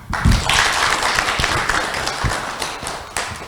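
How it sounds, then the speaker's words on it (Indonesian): Audience applause at a civic leadership forum in Tasikmalaya, a steady patter of many hands clapping at moderate loudness, holding fairly even for a few seconds with a few sharper claps standing out. "Boleh tepuk tangan."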